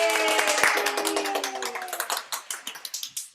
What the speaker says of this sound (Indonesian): Jadi tepuk tangan dulu buat pencipta lagunya.